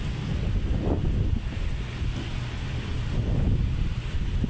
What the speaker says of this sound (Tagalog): malakas ang agos